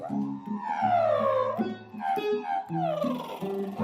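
A voice makes a high, rising and falling whine, imitating a power drill revving, repeated in two or three sweeps over background music.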